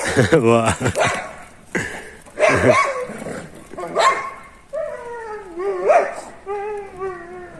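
A dog barks and yelps several times in quick bursts as a dog attacks another dog, with whimpering cries and a voice talking between them.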